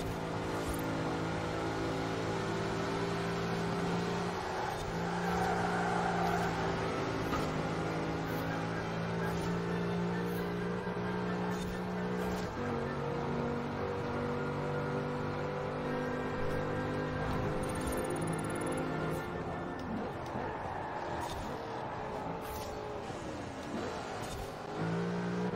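An SVR sports SUV in the racing game Forza Horizon 4 drives through snow, its engine droning and revving steadily for the whole stretch, with pitch rising and dipping through gear changes under a constant roar.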